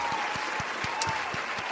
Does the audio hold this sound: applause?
yes